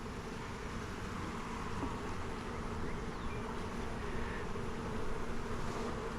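Honeybees swarm out of an open hive during an inspection, a dense, steady buzzing hum filling the whole stretch at a moderate level, with no voices.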